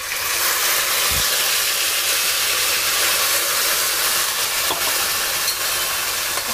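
A paste of onion, garlic, ginger and tomato, with asafoetida, is stirred in a hot pan for an arbi (taro) curry. It gives a steady, loud close-up sizzle and hiss throughout, with a couple of brief scraping knocks and no voices.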